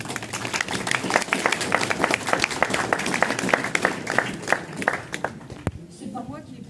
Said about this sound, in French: Vous m'applaudissez, mais c'est eux que vous applaudissez